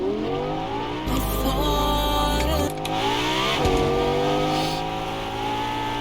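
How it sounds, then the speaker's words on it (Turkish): Car engine in the video game Fortnite revving loudly, with a steady droning engine note that swells and shifts pitch across several seconds, heard up close with no talk over it. "e bu arabanın sesi çok iyi mi ya?"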